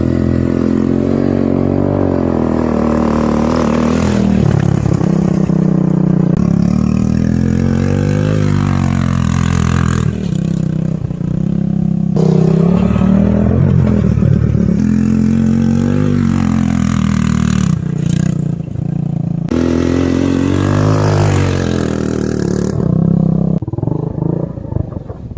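A 1986 Honda ATV engine labors up a steep hill in a new-build neighborhood, a loud, continuous roar whose pitch rises and falls as the throttle works, with brief dips and recoveries throughout.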